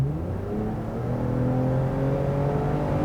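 Exhaust note of a 2021 Toyota Avalon TRD Sport with its TRD Sport exhaust, a steady, low engine drone with a smooth, gently rising pitch as revs climb, close and fairly loud with no talking.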